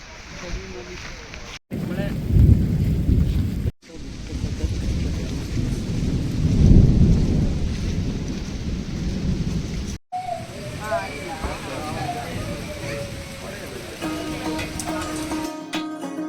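Heavy rain pours steadily during a monsoon-season trip near Kuppalli, with loud rumbles of thunder rolling through and brief cuts between bursts of the downpour.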